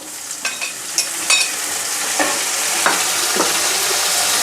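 Sliced onion, green chili and dried chili frying in a pan before bitter gourd is added, a loud steady sizzle close by with scattered soft scrapes and clicks of stirring, and no talking.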